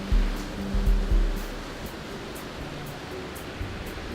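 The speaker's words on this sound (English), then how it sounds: "we've got those waves starting to come in a little bit closer" Ocean waves roll in on a Fraser Island beach, forming a continuous hissing surf wash at moderate distance. A few low buffeting thumps come early, then the wash steadies without any voices.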